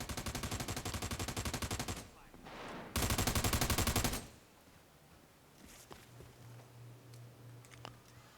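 Rapid automatic gunfire crackles in the America's Army: Proving Grounds video game, in two long sustained bursts, followed by a quieter stretch with scattered clicks and a steady low hum.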